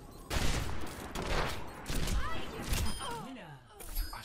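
Gunfire in a competitive Overwatch-style 1v1 match with Widowmaker, bursts of shots over game effects and excited talk, loud and close throughout.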